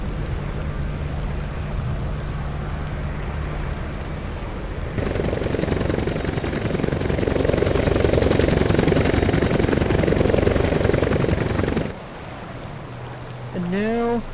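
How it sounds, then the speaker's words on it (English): A helicopter arriving at a helipad in the video game Hitman Contracts, a loud sustained rotor roar that starts abruptly and cuts off just as suddenly after several seconds, with quieter game ambience before and after. "you do not want to get squished by this chopper when it arrives"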